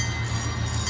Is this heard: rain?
no